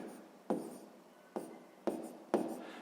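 Close, quiet pen-on-paper writing of a 6th-grade math problem's first step: four distinct scratching bursts, each a quick attack fading into a brief stroke, with no voices.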